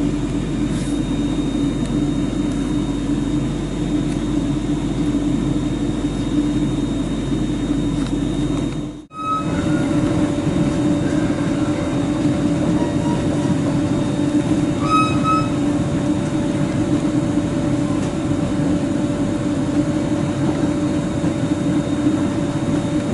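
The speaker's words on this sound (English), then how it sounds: "We are now approaching Springburn. Please mind the gap when alighting from this train." A Scotrail passenger train runs between Barnhill and Springburn in Glasgow, a steady, loud interior rumble and hum of motors and wheels on track, with a brief cut in the middle and faint squeals and ticks later.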